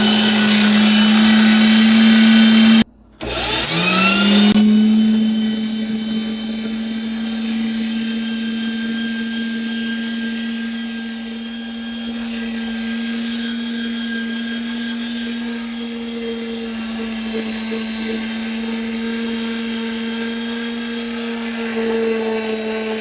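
An electric meat grinder whirs loudly in grind mode, briefly cutting out and then spinning back up into a steady, close, high-pitched motor drone that holds for the rest of the run, with no voices.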